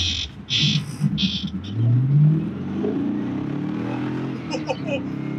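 An LS1 V8-swapped Mazda MX-5 Miata gives a deep engine rumble that swells as it pulls, with a rising whine. Excited voices and short sharp sounds come over the engine near the start.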